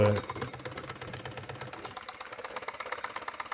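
A Wilesco D409 model showman's steam engine runs with a fast, steady mechanical clatter and chuffing rhythm, fairly quiet and close, continuous throughout with no talk.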